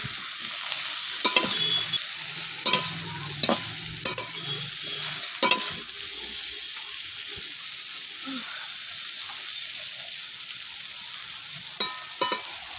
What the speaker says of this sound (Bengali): পটলগুলোকে হালকা হালকা করে ভেজে নিলাম